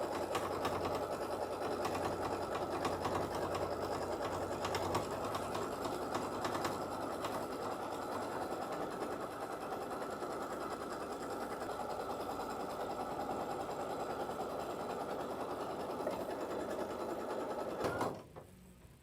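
An embroidery sewing machine stitches steadily to tack down quilt batting, a loud, close, continuous mechanical whir with fast rhythmic needle strokes that runs without talk for about eighteen seconds before stopping abruptly.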